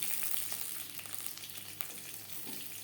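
Curry leaves frying in hot oil for a yogurt and gram-flour curry pakora, giving a steady, close, dense sizzle and crackle throughout with no talking.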